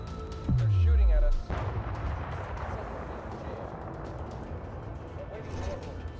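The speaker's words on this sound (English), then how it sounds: "They're shooting at us." Gunfire aimed at a weaponized cargo ship in a video game: a loud booming blast with a falling low rumble, followed by dense crackling shots and rumbling that continue steadily in the background.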